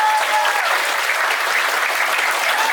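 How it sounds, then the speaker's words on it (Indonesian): Loud audience applause from children at an English and character camp held at a villa, a dense, unbroken burst of clapping close by, with faint voices mixed in. "Tepuk tangan buat PC, Jos."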